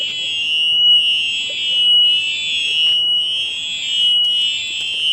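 A Honda CRF1000 Africa Twin motorcycle's electronic alarm wails loudly in a steady rising-and-falling, warbling cycle, sounding continuously and close by.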